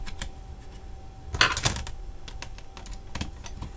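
Keys are tapped on a ZX Spectrum rubber membrane keyboard, a quick irregular run of soft clicks with a couple of sharper presses, close up and alone.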